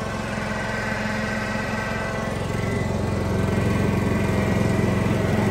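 A yard tractor engine strains to pull a camper uphill, a steady, close, loud droning rumble that holds constant and swells slightly toward the end.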